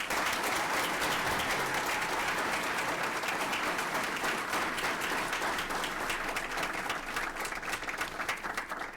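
Steady audience applause for award winners at a school district awards ceremony, a continuous wash of many hands clapping at moderate volume throughout.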